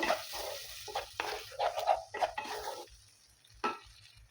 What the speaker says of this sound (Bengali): দিয়ে এটাকে ভালো করে নেড়ে নিয়ে কষিয়ে নেব।